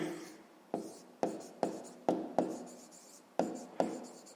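Pen strokes scratch across paper as a math solution for a fifth-grade exercise is written by hand, about eight short, sharp, close strokes, each fading quickly, with no talk.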